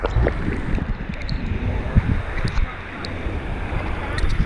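Water washing against a riverbank or shore on a motorcycle ride through Zamboanga del Norte, heard as a low rushing surge mixed with wind buffeting the microphone, with faint scattered sounds on top.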